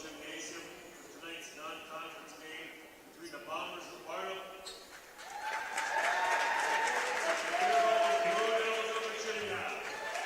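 Barnum fans at a boys high school basketball game in a gym cheer and applaud, a broad crowd roar that swells and holds loud after an announcer talks at the start.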